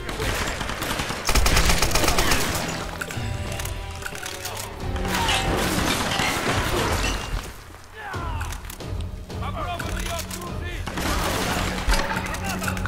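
Game gunfire in Tomb Raider (2013) shattering stone pillars: dense bursts of shots, cracks and thuds running loud and continuous, with a dip near the middle before the fusillade resumes, under a steady mix of in-game ambience.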